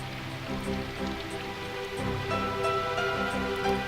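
Steady rain falls in the video game Symphonic Rain, a soft, even hiss with scattered droplet taps that runs through the whole moment beneath gentle tonal music.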